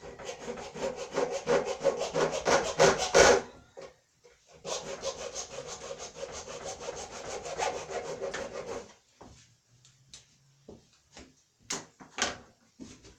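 Bursts of hand sawing, rapid back-and-forth rasping strokes through PVC pipe, close up, pausing briefly then resuming before tapering into scattered scrapes.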